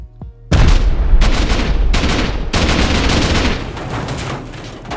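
Automated turrets in the Rust video game firing in loud, sustained bursts of rapid gunfire, with several close, dense volleys following one another after a short quiet start, heard alone without talk.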